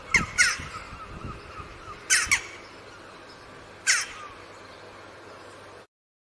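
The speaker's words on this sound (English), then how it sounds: "and now the Jackdaws. These are the ones with the grey heads, and they have a proud swagger when they go walking along." Jackdaws, small grey-headed corvids, give sharp harsh caws, clear and fairly near, in a few separated bursts: a double call at the start, another pair around two seconds, then a single call later, with quiet between.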